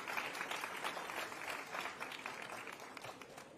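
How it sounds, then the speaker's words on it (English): A conference audience at the U.S. Center at COP29 claps for the Secretary of Energy, a steady, fairly soft wash of applause that holds evenly throughout without voices. "Can we give another round of applause to our great Secretary of Energy,"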